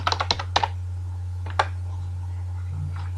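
Brisk clicking on a computer keyboard while a file name is typed for a Python script, a quick run of close keystrokes followed by a couple of isolated taps over a steady low electrical hum.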